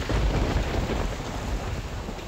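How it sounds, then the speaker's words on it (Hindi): Thunder from storm clouds during heavy rain over cities in Punjab rolls as a deep, continuous rumble blended with a dense roar of rain and wind, loud and filling, with no voices. "पंजाब के कई शहरों में बादलों की घन गरज।"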